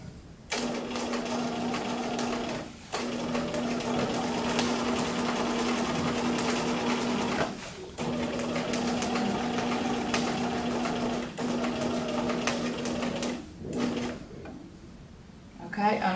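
A sewing machine runs in long steady bursts of fast, small stitches reinforcing a sleeve placket, pausing briefly between runs, close and clear under a speaking voice.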